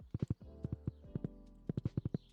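Horse hooves clip-clop in Stardew Valley, a quick run of crisp, evenly paced hoofbeats with a short pause partway through, close and clear over a faint hum.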